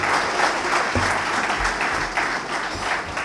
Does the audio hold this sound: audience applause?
yes